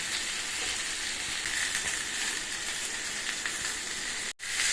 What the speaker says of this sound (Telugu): ఇప్పుడు మొత్తం మనం అన్నీ వేగనివ్వాలి ఆనియన్స్ పచ్చిమిర్చి టమోటా మూడు బాగా వేగనివ్వాలి